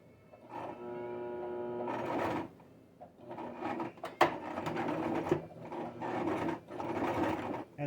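A sewing machine zigzag-stitches fabric in several bursts of rapid mechanical whirring and clatter, pausing briefly between runs, close and moderately quiet.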